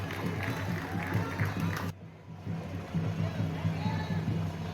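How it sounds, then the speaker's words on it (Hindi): Outdoor crowd applauding as a decorated parade tableau passes, clapping and babble over steady rumbling engine noise and a public-address voice, continuous and fairly loud. "आप जोरदार तालियों से इनका उत्साहवर्धन करें।"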